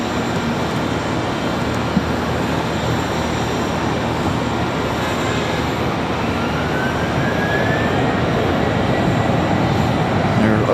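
A jet airliner spools up for departure at Charlotte Douglas International Airport, a broad, continuous roar of engine noise that slowly swells in loudness, with a faint rising whine late on.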